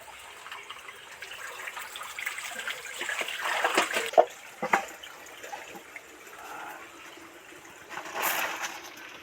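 Water being poured off live koi fish in a container, a soft uneven splashing and trickling that swells to a brief gush midway and again near the end, with no talk.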